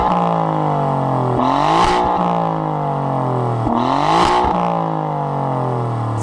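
A powerful car engine revving hard twice, rising then dropping in pitch with a snarling exhaust, loud and close.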